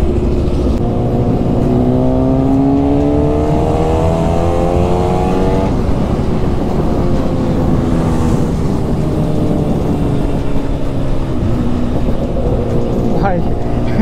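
A Kawasaki Ninja ZX10R superbike roars loudly up through the revs in a drag race, the engine pitch climbing and shifting continuously with heavy wind rush close to the rider.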